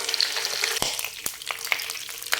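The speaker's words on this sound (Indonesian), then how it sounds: "Selanjutnya, goreng ikannya di minyak yang sudah panas." Steady crackling sizzle of fish frying in hot oil, with sharp pops and spatters scattered throughout, close and continuous, no voices.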